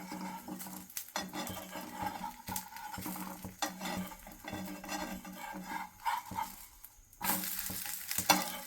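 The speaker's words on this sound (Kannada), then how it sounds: "ಇವಾಗ ದೋಸೆ ತೆಗಿತಾ ಇದ್ದೀನಿ" A spatula scrapes and clatters as a rava dosa is lifted off a hot pan, with crisp scraping strokes, metallic taps and a soft sizzle, close and fairly quiet, ending in a brighter burst of sizzling.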